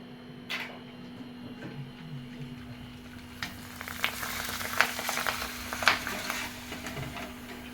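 Potato bhungla fry in hot oil with a steady crackling sizzle under a low hum, joined by occasional sharp clinks and scrapes of a utensil in the pan.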